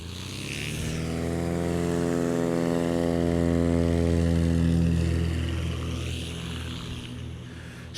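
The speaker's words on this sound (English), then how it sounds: "popping those flaps, getting airborne at a pretty nice early point" Polished Cessna 180 fitted with a Horton STOL kit takes off at a STOL competition, its propeller engine droning loud and steady as it passes close, then fading slightly.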